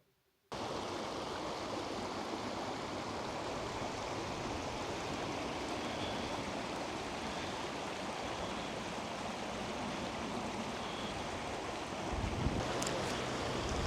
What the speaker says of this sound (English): Right, so now I'm at the stream.